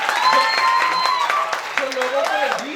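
Applause from an audience honouring staff at a branch manager's speech in Lucknow, a steady wash of clapping with a voice speaking over it throughout.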